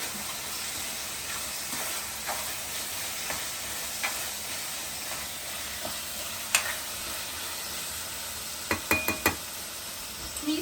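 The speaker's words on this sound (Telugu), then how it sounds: "ఇప్పుడు అవన్నీ బాగా కలుపుకో" Cumin and coriander powder stirred into a sizzling dried anchovy and spring onion curry, a steady frying hiss with soft scraping strokes and a few sharp clinks of the spoon against the pan near the end.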